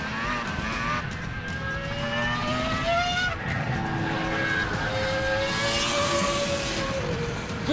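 A Williams F1 racing car screams past under hard acceleration, its high engine note sweeping upward through repeated gear changes, loud and close, with a rising roar near the end.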